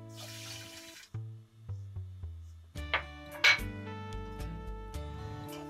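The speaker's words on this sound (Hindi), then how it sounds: "इसी कटोरी से पानी भी डाल दे रहे हैं" Water poured from a bowl onto sugar in a pan to make syrup for watermelon-rind preserve, a soft splashing trickle among clinking kitchen sounds and faint sizzling.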